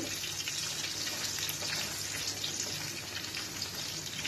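Peanut pakora deep-frying in hot oil, a dense, steady crackling sizzle filling the whole stretch, close and loud with no talking.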